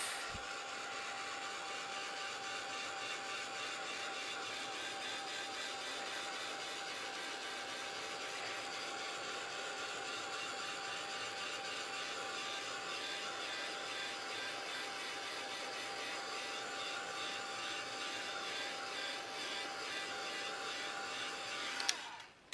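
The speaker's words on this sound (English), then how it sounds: "take the heat gun to that" A heat gun blows hot air onto wet craft paint, a steady broadband whooshing roar with a faint whine that runs unbroken and close for over twenty seconds before cutting off.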